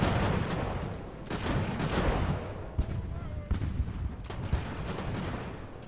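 Musket volleys crackle in Ultimate Admiral: Age of Sail, a rolling patter of many overlapping gunshots with sharper individual cracks standing out, moderately distant and continuous.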